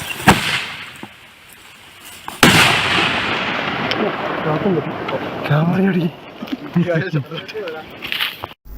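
A few loud, sharp firecracker bangs burst apart from one another while forest response team members shout and call out loudly between them, driving wild elephants from a settlement in Chinnakanal.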